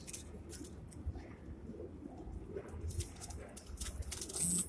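Teddy pigeons coo softly on a Karachi rooftop, faint and intermittent over quiet outdoor ambience, with a few brief louder bursts toward the end.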